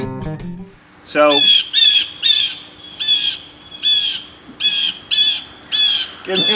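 Repeated harsh, raspy bird squawks in spaced bursts of two or three calls, loud and close outdoors, following a short sound at the start; no one talks over the calls.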